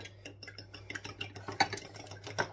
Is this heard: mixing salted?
yes